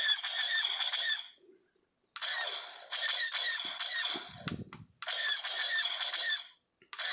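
Kylo Ren TIE Whisper toy playing electronic sound effects: three loud synthetic bursts of whooshing flight and laser firing noise, separated by short pauses and a brief handling clatter.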